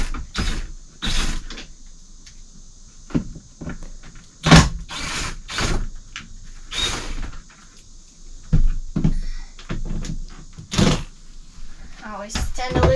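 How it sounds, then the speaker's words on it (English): Screws are taken out of an RV air-conditioner vent cover, heard as short ratcheting clicks and handling knocks between stretches of a person talking nearby. "So there are four screws here we need to take out,"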